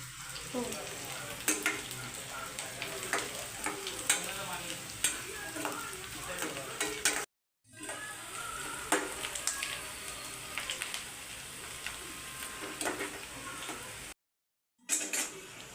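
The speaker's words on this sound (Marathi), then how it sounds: "आता थोडा ब्राऊन झाला आपला कांदा." Onion frying until brown in a pan for mutton curry, a close continuous sizzle with frequent sharp stirring clinks and scrapes, briefly cut out twice.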